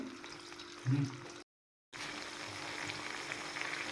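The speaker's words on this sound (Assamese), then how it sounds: "এতিয়া এই গোটেইখিনি ধুনীয়াকৈ মিলাই অকণমান সময় ভাজি ল'ম" A chilli mixture for a pickle fries in a pan with a steady close sizzle and occasional stirring scrapes, cut by a brief gap of silence.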